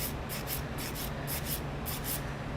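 A coarse McCart nail file rasping across a fingernail in quick back-and-forth strokes, about ten rhythmic scratchy passes, close and clear with no talking.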